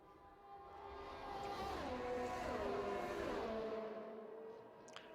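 Glitched engine note stuck at full revs in an F1 racing game on PC, a steady high-pitched whine with wavering harmonics that swells and holds for several seconds before fading.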